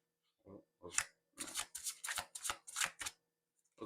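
A deck of oracle cards being shuffled by hand in a quiet room, a series of about eight crisp riffling bursts in quick rhythm, close and clear with no talking.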